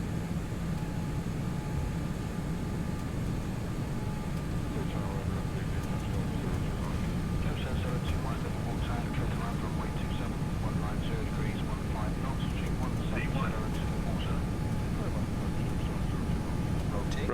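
Boeing 747-8 engines at takeoff thrust during the takeoff roll, a constant loud roar heard from inside the cockpit, with crew calling out briefly over it.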